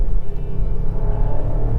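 Artificially generated, throaty engine note of a Škoda Kodiaq RS SUV, a close, steady low rumble that drones with slight pulsing and no speech over it.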